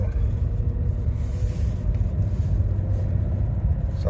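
A 2017 Audi Q7 with a newly replaced transmission drives along, steady low engine and road rumble filling the cabin without a break, with no talking.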